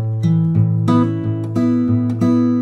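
Plucked guitar double stops with pinky hammer-ons from the intro riff of a song ring out in a steady pattern, each pair of notes followed by a quick hammered note, close and clear with no talking.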